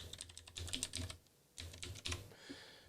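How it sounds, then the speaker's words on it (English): A password tapped out on a computer keyboard: quick, close clicking keystrokes in two short bursts separated by a brief pause, with no voices. "So I'm going to type"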